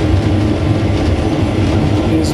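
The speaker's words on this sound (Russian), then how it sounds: "мы с вами находимся на поезде," Inside a passenger train running from Budapest to Zagreb, a steady loud low rumble of wheels and carriage runs continuously with a faint clatter and no talk.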